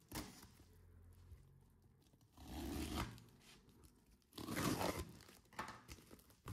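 Someone opens a shipping parcel of silver coins, producing quiet close-up crinkling, tearing and scraping of packaging, with a couple of louder rips in a hushed room.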